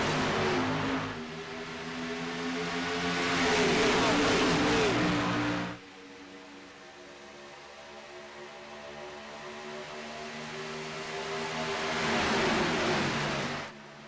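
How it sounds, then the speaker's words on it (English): Race cars in an iRacing All-Star Race at a superspeedway roar past at full throttle, the engine drone swelling and fading as the pack sweeps by twice, loud and steady with no talk. "He waves that green flag and we are off and away."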